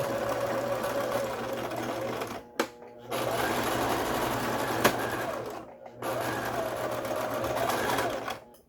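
A Brother XL5500 household sewing machine runs an overlock stitch in fast steady mechanical bursts, stopping briefly twice between runs, close and loud.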